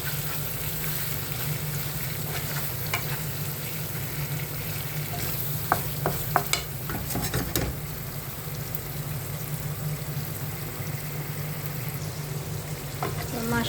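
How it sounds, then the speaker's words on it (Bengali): Large sea fish sautéed and stirred in a pan, a continuous soft sizzle with a few sharp clinks and scrapes of a utensil in the middle. "মাছটা অনেকক্ষণ করে 5 মিনিটের মতন কষাই নিলাম ভালো করে।"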